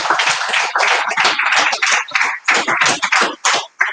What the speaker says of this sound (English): A round of applause for him one more time.